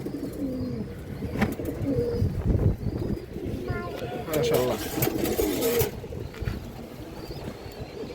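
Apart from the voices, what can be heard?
red Giribaz high-flyer pigeon cooing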